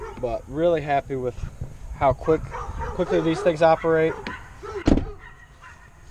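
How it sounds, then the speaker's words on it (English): Dogs barking at each other near a parked pickup truck, with several sharp yipping barks close by in the first moments and someone talking over them throughout. "I'm so sorry about the dogs."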